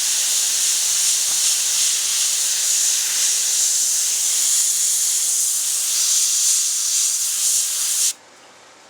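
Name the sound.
spray painting a pheasant taxidermy mount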